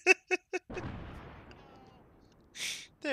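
An explosive charge detonates during military squad training, a deep rumbling boom that rolls on and fades over a couple of seconds, preceded by a few short sharp bursts and followed by a hiss of noise.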